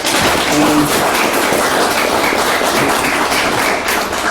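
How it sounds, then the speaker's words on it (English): Audience at a public panel discussion on a wellbeing budget applauding the volunteers, a dense, even wash of clapping from a sizable group, loud and continuous. "Big round of applause for them as well."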